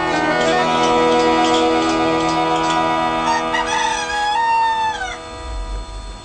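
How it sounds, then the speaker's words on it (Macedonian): In a retro animated cartoon, a rooster crows a long rising and falling call over a sustained musical background, fairly loud and close, fading toward the end. "Да не запееше Петело тоа утро, сите ќе спиеја како трнорушка"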